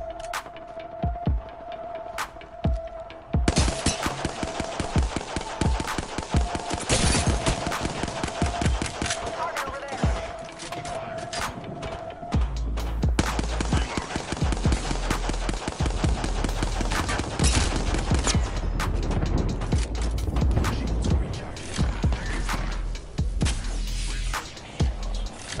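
Gunfire in Apex Legends, rapid automatic bursts of sharp cracking shots, loud and near, continuing almost unbroken with a steady low throbbing hum underneath in the second half.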